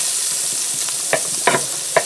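Frozen margarine melts in a pan with a soft, constant sizzle and a few sharp crackles and pops toward the end, close to the microphone and without any voices.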